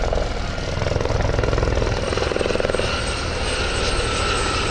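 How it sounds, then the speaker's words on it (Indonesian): A white police helicopter flies overhead, its rotor beating in a steady, loud chop over a dense engine roar that holds for several seconds, with no voices. "Ini helikopter polisi."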